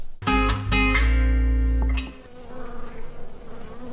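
Bees buzz close by, several tonal drones overlapping loudly for about two seconds before fading to a softer, wavering hum.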